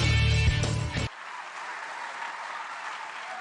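Studio audience at a televised junior quiz competition applauding at the end of a round; dense clapping mixed with a voice and tone that cut off abruptly, leaving a steadier wash of applause fading on.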